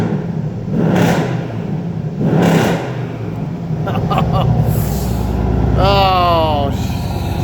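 The V8 of a 2014 Mercedes-AMG E63 S 4MATIC idles after a cold start, a close, loud, continuous low exhaust rumble with a few swelling surges, while someone talks over it.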